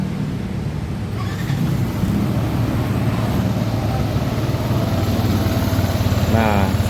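A Yamaha NMAX scooter engine cranks and settles into a steady, loud idle with a throbbing mechanical hum, up close with a brief voice near the end.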